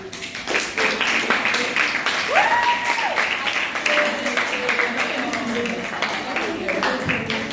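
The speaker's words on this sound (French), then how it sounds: "J'ai oublié de souligner que nous devons aussi acclamer nos encadreurs." A school audience applauds class supervisors with loud, sustained clapping throughout, while voices and cheers rise over it.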